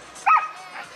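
A Belgian Tervuren shepherd dog gives a single short, sharp bark at a canine demonstration, close and clear, followed by a faint trailing yip.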